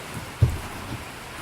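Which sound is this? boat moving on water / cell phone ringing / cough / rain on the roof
rain on the roof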